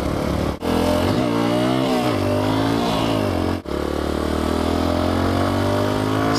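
A supermoto motorcycle engine revs and accelerates through several gears, its pitch climbing and then dropping at two quick shifts, loud and close throughout with no talking.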